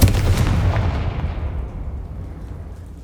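Confringo fire spell blast in Hogwarts Legacy, a loud fiery burst at the start that rumbles and fades away over a few seconds.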